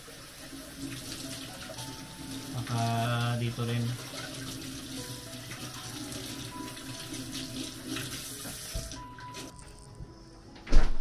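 Hot water runs steadily from a tap into a sink for soaking, with a fuller gush partway through. A voice talks quietly over the flow, and a louder clatter comes right at the end.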